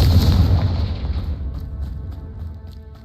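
A Confringo blasting spell explodes in Hogwarts Legacy as a single loud, close, booming blast. Its deep rumble fades away over a few seconds, with no voice over it.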